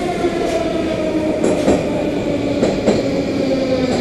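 Loud, steady rumble of a Moscow metro train at Taganskaya station on the ring line during rush hour, with faint wheel squeals and a few clacks throughout, no voices.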